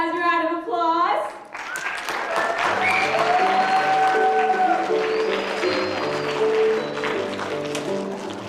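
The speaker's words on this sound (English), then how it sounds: "How about we give these guys a round of applause?" Audience applause at a stage show, steady loud clapping that swells and holds for several seconds after a spoken line, with whoops and cheers mixed into the crowd.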